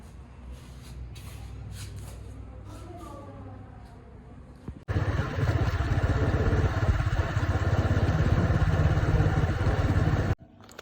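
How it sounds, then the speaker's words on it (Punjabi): A Bullet motorcycle moving in reverse gear is quiet at first, then bursts into a loud, close engine roar. The roar holds steadily for about five seconds before cutting off sharply. "ਆ ਬੁਲਟ ਜੱਸੂ ਦਾ ਪੁੱਠੇ ਗੇ ਨਾਲ"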